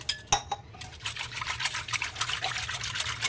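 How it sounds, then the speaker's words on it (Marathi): Water pours and splashes into a cooking pot of buttermilk curry, with a few light metallic clinks at the start and a continuous trickling rush after. "आणखी थोडं पाणी घालायचं"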